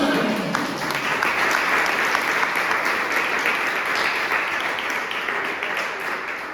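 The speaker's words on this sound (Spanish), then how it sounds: "Dale un aplauso." A church congregation breaks into sustained applause during a worship service, a dense, steady wash of many hands clapping that fills the room for several seconds, fading slightly toward the end.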